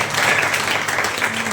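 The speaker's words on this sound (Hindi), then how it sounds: "कम ऑन, हम ताली बजाएंगे यीशु नाम के लिए।" A church congregation claps together in praise of the name of Jesus, a dense, steady burst of applause filling the room at close range.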